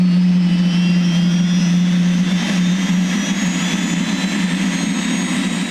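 A 1968 Howmet TX gas turbine engine starts up, its loud, steady turbine whine and rushing roar holding throughout as the starter spins it toward idle, with a high tone slowly rising.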